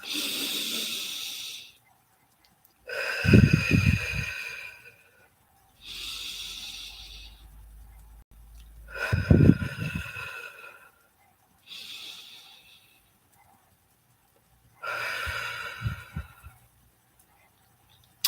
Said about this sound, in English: All right, 3 deep breaths.